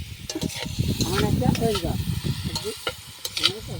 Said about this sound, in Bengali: দেখুন আমাদের আলু ভাজা হচ্ছে